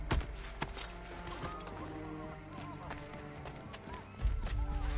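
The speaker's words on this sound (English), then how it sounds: "Mount horse. Get on that horse." Horse hooves beat a steady, rapid clip-clop as a mount gallops in the video game Assassin's Creed 3, holding close and even for several seconds over a low game soundscape before a louder burst near the end.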